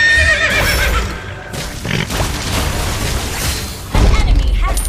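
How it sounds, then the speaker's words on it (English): Horse neighing in a multiplayer battle arena video game, a whinny rising briefly amid dense game effects, impacts and booming fight sounds, with a commentator talking over it. "Come on, Beatrix, I'll hold this horse for you"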